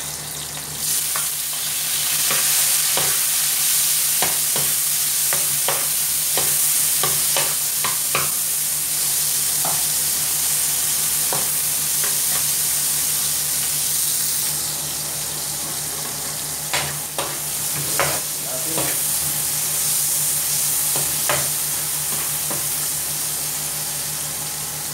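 Squid adobo sizzling steadily in a pan as tomatoes go in, with a run of sharp clatters and stirring scrapes over continuous loud frying, no voices.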